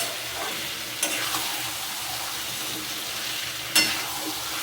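Potatoes cook with spices in a pan as they are stirred for aloo dum, giving a steady moderate sizzle with two sharp scrape or clink accents from the spoon.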